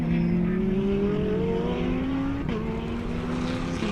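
GT race car, the number 55 car, pushing hard at Red Star Raceway in a 2022 MSA SA GT race, its engine a loud, sustained roar with rising and falling revs and a brief dip near the middle.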